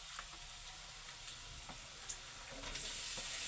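Meat for dinuguan sizzles in a hot pan, a steady close frying hiss with soft stirring clicks that grows slightly louder toward the end.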